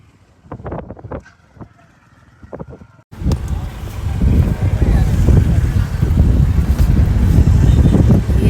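Wind blows strongly on the road to Talakadu, starting as quieter sounds and then becoming a loud, continuous rumble that buffets the microphone for the rest of the clip.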